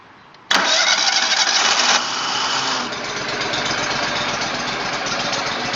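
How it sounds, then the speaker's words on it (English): A stump grinder's engine, fitted with new bearings and green teeth, cold-starts with a sudden loud catch, runs hard for about two seconds, then settles into a steady, slightly lower idle. "That was a cold start, by the way."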